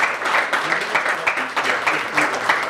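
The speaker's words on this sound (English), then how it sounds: "Give him a round of applause." Audience applause at a charity gala in the London Hilton ballroom, Holland Park, a steady dense wash of many hands clapping for nearly three seconds, fairly loud, with some faint voices mixed in.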